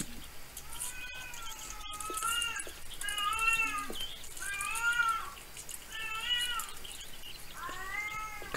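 A cat meows repeatedly in the horror game ERIE, about six drawn-out, rising-and-falling cries spaced a second or so apart over a low ambient hum.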